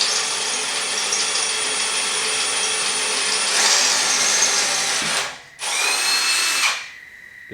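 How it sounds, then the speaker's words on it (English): A power drill runs with a final-size bit, boring mounting holes for a curved light bar bracket: a loud continuous whine that briefly cuts out near the end, restarts, then winds down. "we'll go with our final size drill bit"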